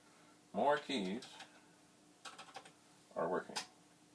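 Keys click on a dirty, partly working Commodore 64 keyboard found in a basement, with a quick cluster of light taps between stretches of someone talking nearby.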